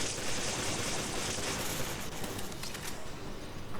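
Gunfire in the video game Desperate Escape, a dense, continuous wash of rapid shots that blur into steady loud noise for several seconds.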